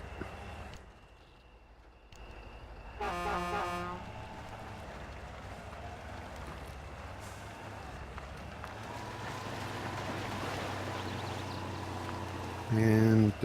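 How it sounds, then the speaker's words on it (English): A truck horn in the off-road game Spintires: Mudrunner sounds in a short, bright blast over a steady engine rumble, followed later by a second brief honk, with a bogged-down truck's drone running throughout. "Honk the horn."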